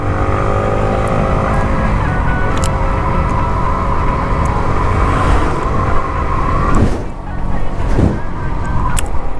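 A Yamaha motorcycle rides along a foggy highway under construction on a winter morning, with a steady engine drone under constant heavy wind rush and a brief dip in the roar; no talking.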